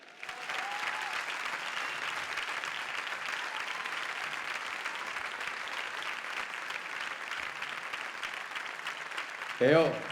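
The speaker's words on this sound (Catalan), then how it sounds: "S'han passat el joc i per això es mereixen un aplaudiment com cal" Audience at a Vilafranca devils' troupe event applauds in a long, even burst of dense clapping, fairly close and sustained throughout, with a voice breaking in briefly near the end.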